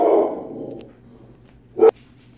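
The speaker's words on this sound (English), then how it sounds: "The dog went a little crazy there for a second." A dog barks indoors, one loud burst at the start trailing off, then a second short, sharp bark near the end, with quiet room noise between.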